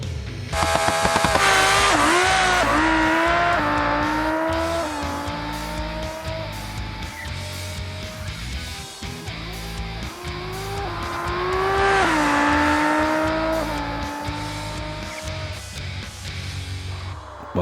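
Civetta Scintilla drag car in a racing video game: a loud, sustained engine roar climbing through repeated gear shifts, pitch rising then dropping at each change, with a second surge of acceleration later and faint tire squeal.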